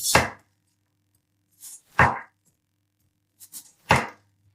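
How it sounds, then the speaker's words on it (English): Sweet potato being sliced into small pieces with a kitchen knife, three sharp, close chops spaced about two seconds apart, each followed by brief board scraping, with no one talking. "cut it into small pieces, first into slices and"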